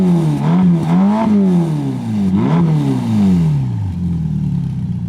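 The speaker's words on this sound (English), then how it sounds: "when you rev the engine, they sound pretty good" Ferrari Roma coupe's 3.9-liter twin-turbo V8 revved repeatedly through four exhaust tips, with loud rising and falling blips in quick succession before settling back toward idle.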